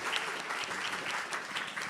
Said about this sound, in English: Please help me thank tonight's Round of moderator. applause, round of applause